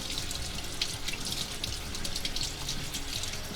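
Caviar being rinsed under a running kitchen tap, a steady close hiss of water splashing into a sink with light spattering, no talking.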